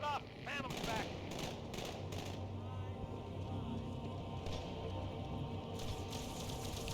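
Rapid gunfire from the Halo video game rattles almost continuously in steady bursts, with a person talking over the shooting throughout.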